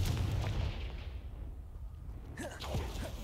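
A Confringo fire spell goes off in the Hogwarts Legacy game, a rumbling blast with crackling debris that settles, followed by a few sharp whooshing swipes near the end.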